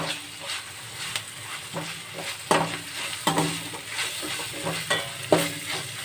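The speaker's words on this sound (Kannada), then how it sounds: "ಇದಕ್ಕೆ ಒಂದು ಟೇಬಲ್ ಸ್ಪೂನ್ ಅಷ್ಟು ಶುಂಠಿ ಮತ್ತು ಬೆಳ್ಳುಳ್ಳಿ ಪೇಸ್ಟನ್ನು ಸೇರಿಸ್ಕೊಡಿ ಒಂದ್ಸತಿ ಮಿಕ್ಸ್ ಮಾಡ್ಕೋಬೇಕು" Fenugreek leaves are stirred with ginger-garlic paste in a hot pan for menthya bath, a soft continuous sizzle punctuated by regular, close scraping strokes of a spoon against the pan.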